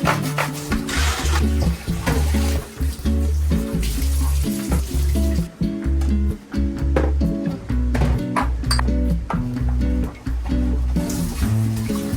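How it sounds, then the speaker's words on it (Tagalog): Tap water runs over a dish drainer being washed in a small home kitchen, a steady splashing stream with clattering knocks throughout, close and fairly loud. "Hinugasan ko na rin nga tong dish drainer namin"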